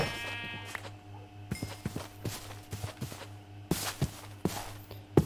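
A sheep bleats in the Minecraft RLCraft game, with short, clear calls mixed among soft, rhythmic footstep taps and small clicks, fairly close and with no talking.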